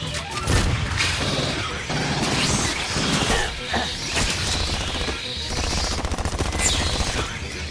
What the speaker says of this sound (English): Drawn by the gunfire.